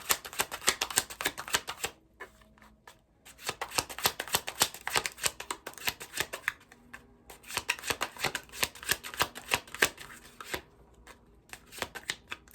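Tarot cards being shuffled up close in repeated bursts of rapid riffling and flicking, broken by brief pauses, with no talking over them.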